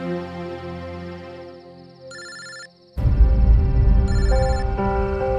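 A telephone ringtone sounds inside a house, a melodic electronic tune that pauses briefly, then resumes louder and fuller with steady repeating notes, heard alone without talk.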